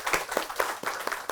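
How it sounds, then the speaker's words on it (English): Scattered hand claps from a small lecture audience applauding Rohit, a few separate claps heard close and at moderate volume, with no talk. "Can we give him a round of applause, please?"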